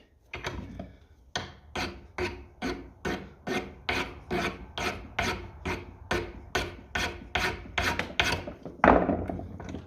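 Hand file rasping back and forth on a Lucas distributor cap clip held in a vice: about fifteen even, regular strokes, close and clear, with no talk.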